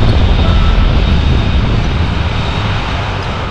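A toy airship lifting off in a staged action-figure adventure, heard as a loud, steady engine roar with a low rumble that holds for the whole stretch and eases only slightly toward the end.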